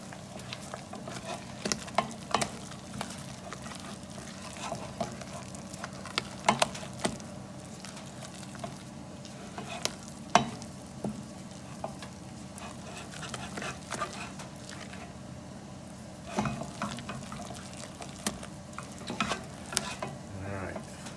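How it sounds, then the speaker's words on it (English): An egg yolk is stirred into shepherd's pie filling in a pan, with repeated soft scraping and clacking from a spoon over a faint background sizzle, quiet and close, with no talking. "It says stir in the egg yolk."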